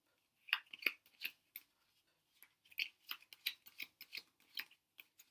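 Playing cards are shuffled by hand for a magic trick, a close run of quick crisp flicks and snaps in irregular bursts with a short pause partway through.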